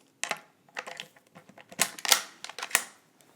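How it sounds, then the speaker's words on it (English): Rifle bolt slid back into a Sako Deluxe Forester or Finnwolf in .243 Win, a quick series of sharp metallic clicks and sliding clacks, close and crisp, ending in a firmer snap. "Putting the bolt back in the rifle."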